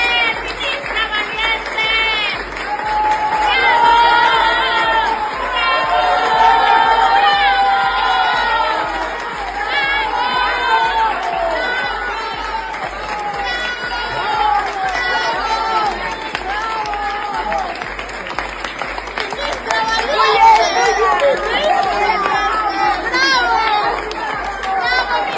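Crowd greeting Norma Lucía Piña as she arrives at Mexico's Supreme Court, a loud, sustained mix of cheering, shouting voices and scattered clapping, with many people chattering throughout.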